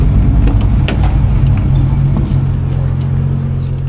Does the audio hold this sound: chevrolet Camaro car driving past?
yes